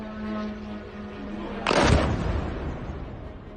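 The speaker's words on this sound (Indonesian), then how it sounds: "Suara dentuman terdengar di kejauhan memicu kepanikan sebagian warga dan pekerja di kawasan terdampak." A single explosion from an Iranian missile or drone attack on Dubai, a sudden loud broadband boom after a low hum, decaying into a rumbling tail.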